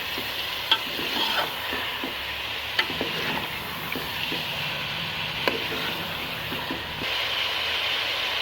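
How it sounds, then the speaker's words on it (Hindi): Beef pieces fried with ginger garlic paste in a pot for hotel-style nihari, giving a steady close sizzle with stirring scrapes and a few sharp utensil knocks, no talking. "अब हम अदरक लहसुन का पेस्ट ऐड कर देंगे। और इसको भी गोश्त के साथ भूनेंगे।"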